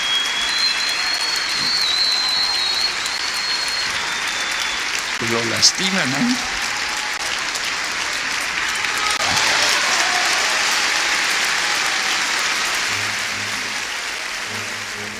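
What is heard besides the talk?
applause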